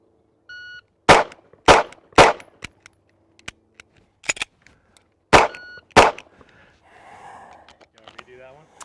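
Loud, close pistol gunshots ring out in a live fire drill, about six sharp cracks in two quick groups with brief gaps, after a short electronic beep.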